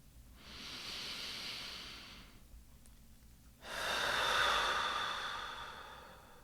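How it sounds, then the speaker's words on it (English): Two long, slow breaths drawn close to the microphone. A softer airy inhale lasts about two seconds, and after a pause a louder, fuller exhale follows. "Shall we take a deep breath together?"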